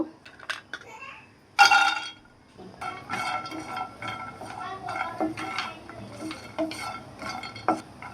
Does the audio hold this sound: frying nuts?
yes